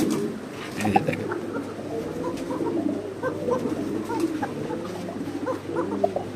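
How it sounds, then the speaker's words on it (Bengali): Pokha pigeons coo repeatedly close by, overlapping low throaty calls with faint background murmur. "দেখেন খুব সুন্দর পকা কবুতর মাশাআল্লাহ।"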